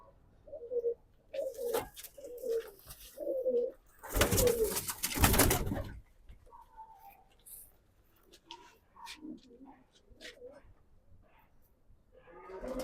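Pigeons of a Faujī Butari Dabbe blood line coo in repeated low, rounded phrases, several close bursts early on, broken by a loud rustling flutter of wings before quieter scattered calls return.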